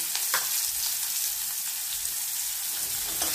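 Bay leaf, onion and green chillies frying in hot oil, a dense, steady crackling sizzle heard up close, with a couple of faint stirring scrapes and no talk.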